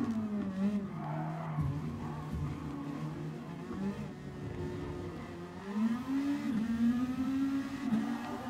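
Race car in Gran Turismo Sport spinning out, a steady engine drone with a sustained tire skid squealing through most of the stretch, rising again near the end, loud and close with no talk.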